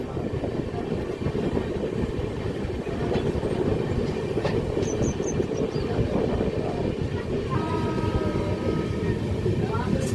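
Satavahana SF Express running through Telangana on its Vijayawada–Hyderabad route, a steady loud rumble of wheels on rails with clattering from the carriage and a brief tonal squeal near the end, with voices faintly under the noise.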